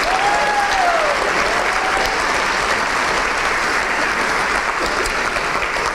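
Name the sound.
round of applause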